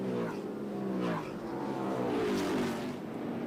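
K&N Pro Series stock cars racing at Daytona, engines droning and shifting in pitch as the field runs together, heard at moderate distance and fairly faint under a commentator's voice.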